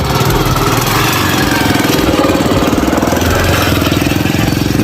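A motorbike engine runs loud and close, its steady rapid chugging rumble continuing without pause and with no voices.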